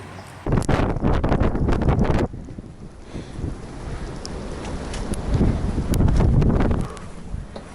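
Hurricane-force wind of about 120 km/h on Mont Blanc buffets the microphone in loud, roaring gusts that rise and fall over a constant rushing background, with no voices.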